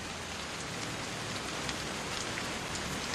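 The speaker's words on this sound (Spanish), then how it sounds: "lluvias rápidas y torrenciales se suceden con periodos de intenso sol" Torrential tropical monsoon rain in Singapore, a dense, loud, unbroken hiss of heavy downpour hammering surfaces close by, with no voices.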